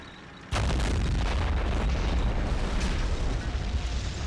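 Heavy tank-gun explosions in the war game Men of War: Assault Squad 2, starting with a sudden loud blast and continuing as a dense, sustained rumbling roar of booms with no talk.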